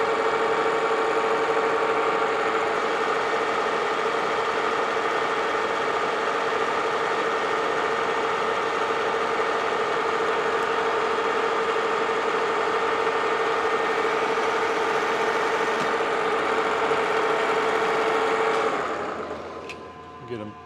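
A metal part for a chain hoist trolley cross bar takes a machining cut of about thirty thousandths, a steady whining machine tone that runs evenly for a long stretch and then winds down, with speech at times.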